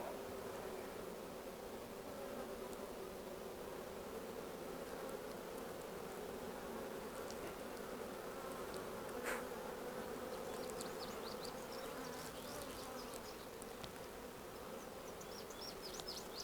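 A dense, steady buzzing of many honeybees swarming close by during a hive inspection, a continuous drone with no talking.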